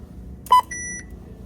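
A self-checkout scanner at a CVS store gives two short electronic beeps, one loud and clipped and one longer and thinner, over faint store background noise.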